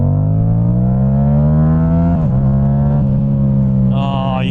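A Yamaha MT-07 parallel twin motorcycle with a cross-plane crank accelerates loudly up close, its engine note rising steadily, dipping at a gear change, then climbing again.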